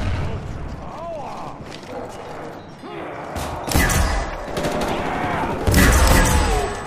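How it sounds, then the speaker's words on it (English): Rapid bursts of gunfire in Black Ops Zombies on the Kino der Toten map, repeated volleys and thuds shooting at zombies, with players talking over the shooting. "Now shooting some zombies, sharp."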